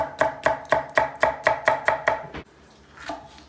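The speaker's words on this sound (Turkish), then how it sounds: "bir tane de küçüğünden kapya biber doğruyoruz" A knife chops a small red kapya pepper rapidly on a cutting board, about nine even strokes in a steady rhythm, then a pause and one last softer cut.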